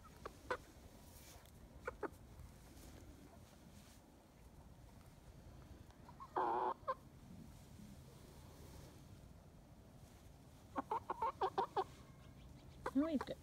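A backyard chicken clucking in short, scattered bursts, a few soft isolated clucks early on, then a quick run of louder clucks near the end, over a low background hiss, with a person speaking softly in between.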